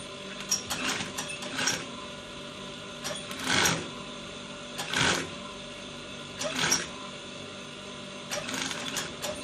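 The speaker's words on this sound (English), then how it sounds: "you now top stitch at this point, on top of the placket and not the fabric" A sewing machine top stitching along a trouser placket runs in several short bursts of rapid mechanical stitching, separated by quieter pauses with faint clicking, close up and without talk.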